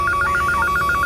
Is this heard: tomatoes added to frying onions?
no